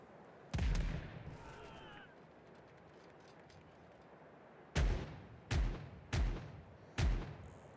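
Broadside cannons on a sailing ship in the video game Caribbean Legend: one loud blast early, a pause, then four heavy booms in a quick ragged volley, each with a rumbling tail.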